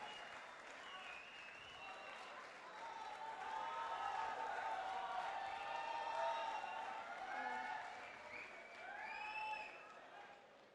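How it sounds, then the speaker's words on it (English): Crowd at a pageant applauding a contestant, faint and distant clapping that swells and fades across several seconds, with scattered cheers and whoops over it. "let's give her a huge round of applause"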